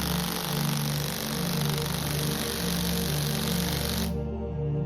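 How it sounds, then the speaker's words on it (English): A power impact wrench tightens the magneto cover bolts on a Pulsar NS200 motorcycle engine, a loud steady buzzing hammer close by for about four seconds before cutting off abruptly. "then install back the Magneto and tighten it with the impact wrench"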